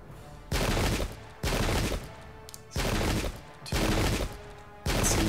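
Light guns firing volleys in the video game Pike and Shot, five separate loud crackling bursts of massed gunfire, each lasting about a second with short gaps between.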